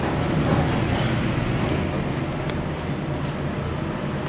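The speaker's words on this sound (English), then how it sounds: "You can hear the motor." The motor of a 1967 Montgomery G&P hydraulic elevator at a JCPenney running during a ride, a loud, steady low rumble and mechanical drone with occasional faint clunks.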